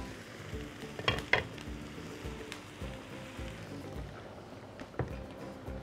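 Soaked rice poured into boiling water for Afghani pulao, bubbling and churning with a few sharp stirring clatters near the start and a later clink, no voices.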